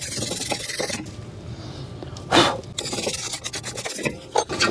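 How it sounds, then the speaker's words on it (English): A wire brush scrubs brake dust off the rear brake caliper of a Toyota Sienna XLE AWD in irregular rasping strokes, close and moderately loud, with one stronger scrape midway. "you can take a wire brush and clean that off"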